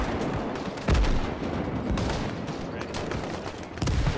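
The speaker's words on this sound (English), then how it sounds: "AKs and M60s are opening up" AK and M60 gunfire in a Cold War Marine Corps beach-landing battle in Gates of Hell, a dense, continuous crackle of many shots, with a few louder close reports standing out.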